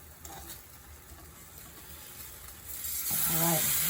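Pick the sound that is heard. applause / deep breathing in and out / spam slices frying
spam slices frying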